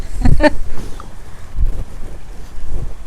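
Wind gusts across an open village farm field in Gujarat, buffeting the microphone with irregular low rumbling bursts, loud and close, with a brief voice near the start.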